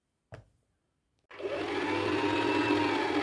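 A sewing machine stitches the middle seam of a classic straight skirt, starting after a short knock and a second of silence, then running as a steady, even, close whir to the end; no talking.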